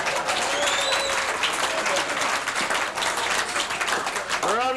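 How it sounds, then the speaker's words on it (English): A roast audience keeps up a sustained, dense round of applause. It plays at moderate level with a faint voice or tone drifting through the crowd noise. "Let's have a bit more applause"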